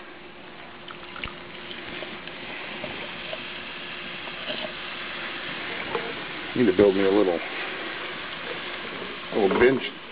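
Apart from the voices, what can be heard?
beans frying in a skillet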